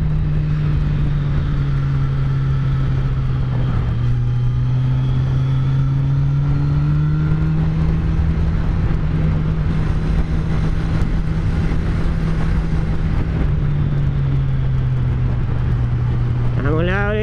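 A car engine droning loud and close beside a road, with a steady low hum that shifts slightly in pitch as vehicles pass, with people talking over it throughout.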